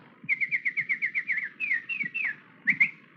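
A voice whistles an imitation of a nightingale's call: a quick run of about a dozen even, rhythmic chirps, then a few longer sliding warbles and two final trills. Close and clear, with no other talk.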